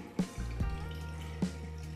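Water poured into a deep cooking pot for rice, a quiet liquid fill with a few soft drips and splashes over a steady low hum, close by.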